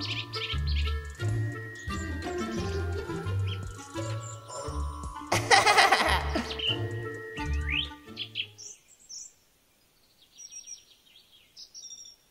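A green cartoon bird chirps in bright, repeated tweets over a light musical backing, then a few faint, high chirps continue alone after the music drops away.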